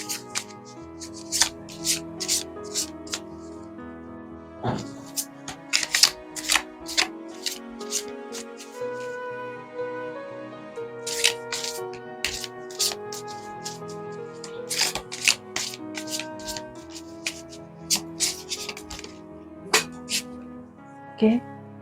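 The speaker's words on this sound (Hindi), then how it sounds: "So more picking cards." Tarot cards being shuffled and picked, a run of crisp riffling flicks and soft card slaps repeating through the passage over a quiet background of faint music.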